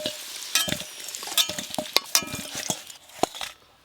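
Potatoes being fried in oil until deep red, with a sizzle under repeated close scraping and clinking stirs of a spatula against the pan.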